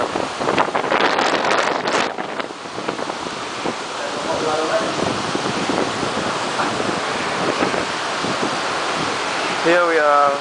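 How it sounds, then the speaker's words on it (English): Strong storm wind roars over the open Atlantic with crashing waves and sea spray, steady and loud throughout, with a brief whistling gust near the end. "Ini dia badai di Atlantik yang besar."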